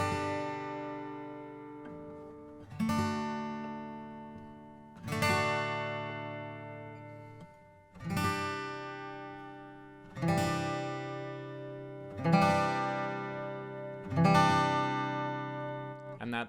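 Acoustic guitar slowly strumming the chords of a song, seven spaced strums about two seconds apart, each chord ringing and fading, played close with no voices.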